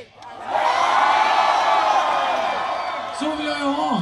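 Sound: festival crowd screaming and cheering

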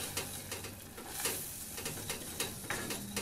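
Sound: corn flour being stirred and toasted in a pan

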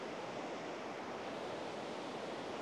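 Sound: beach with ocean waves

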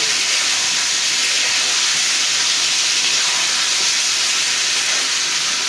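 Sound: onions and spices frying in oil

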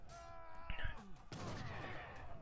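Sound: gunfire from Age of Empires III video game battle

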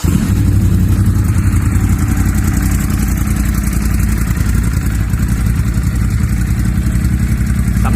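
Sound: Ducati Monster 821 motorcycle engine idling

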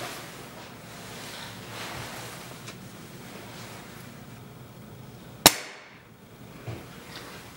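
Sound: Beeman .22 air rifle pellet shot

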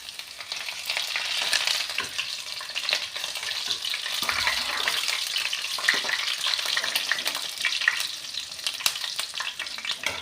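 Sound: cumin and garlic sizzling in hot oil

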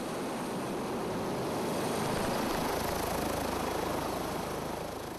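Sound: military helicopter during refueling and rearming training

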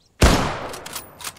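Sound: gunfire in video game Arma 3

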